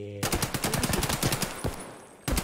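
Rapid automatic gunfire in the shooter game Escape from Tarkov: loud, dense bursts of shots rattle on for about two seconds, break off briefly, then a final burst kicks in at the end.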